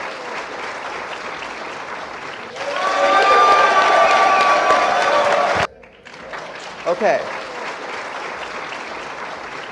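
Audience applause and some cheering swell up loud for about three seconds at a talk about Bob Lazar, then cut off sharply; someone speaks briefly afterward.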